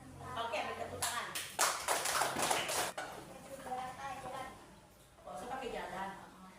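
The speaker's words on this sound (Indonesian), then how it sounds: "beri tepuk tangan" Short burst of clapping from a classroom group during a robot lesson, a few seconds of quick claps surrounded by talking before and after.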